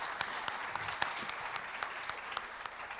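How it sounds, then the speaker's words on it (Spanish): A presentation audience claps steadily for about three seconds, a soft, even patter of many hands with a few sharper individual claps standing out, heard from a slight distance. "Un aplauso, gracias"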